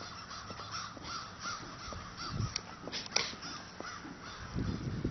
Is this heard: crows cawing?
yes